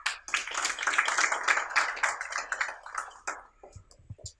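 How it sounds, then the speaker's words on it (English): A small group at a factory commissioning ceremony claps for about three and a half seconds at moderate volume, then the clapping thins into a few scattered claps and ends. "So with a hand of applause, let's welcome Director Jack."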